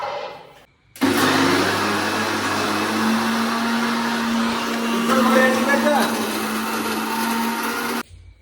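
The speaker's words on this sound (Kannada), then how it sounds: "ಫಸ್ಟ್ ಸ್ಟೆಪ್ ಮಿಕ್ಸರ್ ಹಾಕೋದು ಉಳ್ಳಾಗಡ್ಡಿ ಹಾಕೋಣಂತ" A second-hand mixer grinder grinds onions with a loud, steady whir that starts abruptly, runs for about seven seconds and then cuts off, with voices faint underneath.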